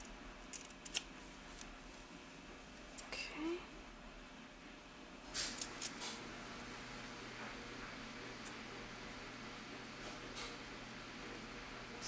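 Pinking shears snip through small pieces of pink fabric for a mouse ornament's nose, giving a few quiet, scattered cuts over a low steady room hum.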